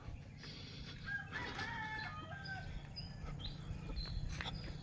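Chickens cluck and call repeatedly over a steady low rumble of outdoor background noise in Isabela, Philippines, with a rooster crow rising briefly in the middle.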